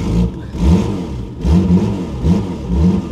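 A Ford Granada Mk2 2.8 Ghia X that sat abandoned for years runs loud and close, its engine rising and falling in repeated revs between rougher idle, with no talking.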